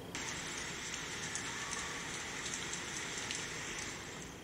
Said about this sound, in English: this app, Sleep Pillow, this has been a lifesaver for me because it has sounds like rain